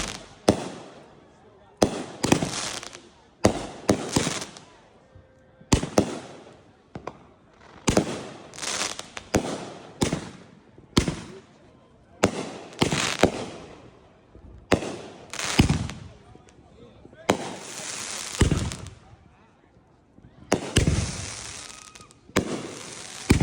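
Fourth of July fireworks explode in a 2025 show: repeated loud booms and crackling bursts arrive in irregular clusters with quiet gaps between them, and people talk and cheer between the blasts.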